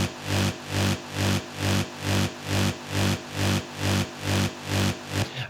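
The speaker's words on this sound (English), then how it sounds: "This is basically Matt's bass." Two-layered acid bass synth line, one mono and one stereo, in an electronic music track, pulsing in a steady repeating rhythm of roughly two notes per second, loud and alone with no voices.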